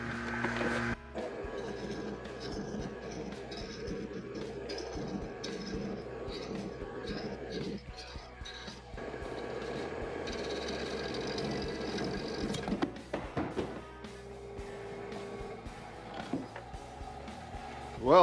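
A wood lathe spins a resin and maple burl vase at 1000 RPM while light cuts are taken, giving a steady, close mechanical whir with tonal hum and shifting cutting noise, with a few brief dips and changes.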